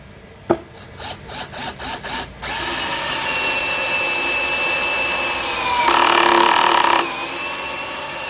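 Bitec CSR 12-2 cordless drill running at speed 1: a few short stuttering pulses, then a steady whining motor hum that climbs louder for about a second before settling back, close and alone.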